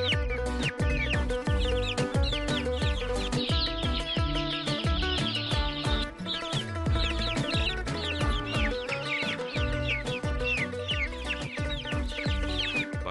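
Many chickens cluck and squawk together at a poultry farm cluster, a dense continuous chorus of overlapping calls over a low steady hum, with no talking.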